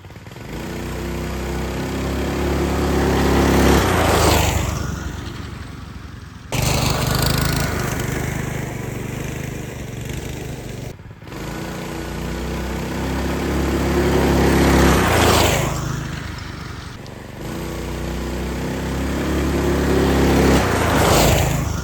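A yard kart fitted with a Stage 3 Predator 212 engine runs in three separate bursts, its loud, buzzing engine note climbing and falling with each pass, with short breaks in between.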